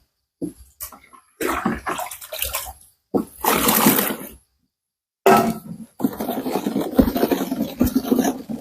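Water pours in bursts into a container while a homemade leaf spray adjuvant is being mixed, a loud close gushing and splashing broken by short silent pauses.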